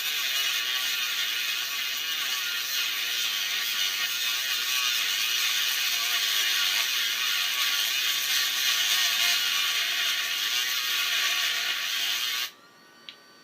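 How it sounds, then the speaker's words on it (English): A motor-driven machine with a low-torque motor grinds down aluminium for a crusader arming sword grip, giving a steady, loud whirring mechanical drone that runs unbroken for about twelve seconds and then cuts off abruptly. "just winding down the aluminium."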